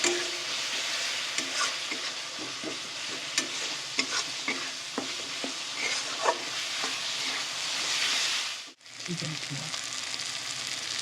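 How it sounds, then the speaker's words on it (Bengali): A spice paste with cumin powder fries in a pan for a dhaba-style chicken tadka. It gives a constant close sizzle with scattered stirring clicks and scrapes, and drops out briefly near the end before resuming. "জিরে গুঁড়ো, দিয়ে ভালো করে মশলাটা কষিয়ে নেব"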